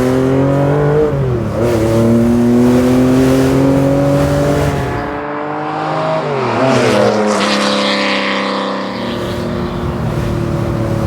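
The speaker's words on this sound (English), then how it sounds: "you hear an enormous amount of induction and exhaust, more of the latter on the overrun, more of the former when it's under throttle" A Theon Design Porsche 911 Targa restomod with a naturally aspirated engine pulls hard, its loud induction and exhaust note rising through the revs, then dropping off on the overrun before climbing again under throttle, all close and continuous.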